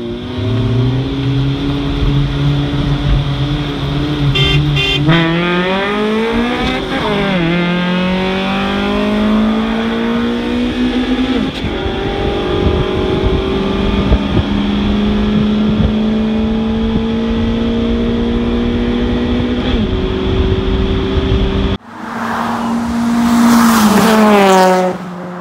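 Two Acura Integras, one with a B20 engine and one with a B18C1, race with loud, sustained engine roar, rising revs and gear shifts, and a brief tire squeal; a sharp burst of close revving follows near the end.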